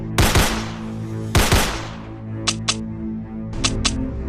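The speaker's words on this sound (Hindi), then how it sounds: "ज़ॉम्बीज को आता देख शॉन उनके ऊपर फायरिंग करने लगता है" Gunfire aimed at zombies in a video game sounds as two loud, sharp blasts followed by lighter, quick clicking reports, all over a steady synthetic hum.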